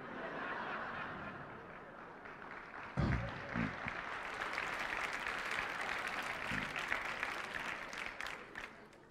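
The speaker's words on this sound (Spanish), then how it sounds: "Muchas gracias por estos aplausos." A crowd applauding at a Spanish comedy show, steady clapping from many hands at moderate distance, with a few laughs mixed in and a louder burst partway through.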